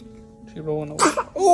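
A newborn baby gives a single short sneeze up close, just after an adult speaks. Another quick vocal sound follows.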